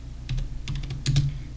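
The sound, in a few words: typing a Linux command on a computer keyboard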